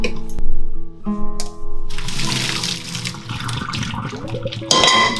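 Water pours and splashes out in a steady gush after a few clanks of a pot as boiled wood ear mushrooms are drained, loud and close.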